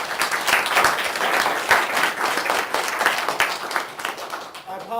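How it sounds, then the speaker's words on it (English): A lecture audience applauds steadily after a talk on religious pluralism and the doctrine of skillful means, the clapping dense, close and sustained for several seconds. "let's give Jay a warm round of applause"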